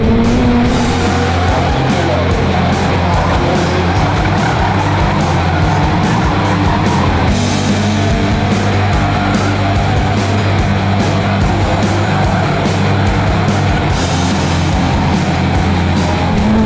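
A race car engine runs loud and steady throughout a race, with a continuous droning roar and no speech over it.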